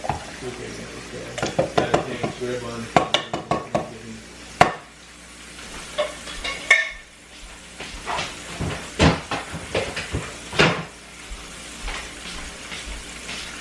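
Contents of a can tip into a cooking pot with a series of wet plops, scrapes and clanks at close range, irregular and moderately loud amid soft kitchen sizzling.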